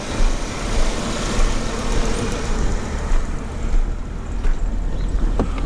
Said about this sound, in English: I'm going to move this car out on level ground.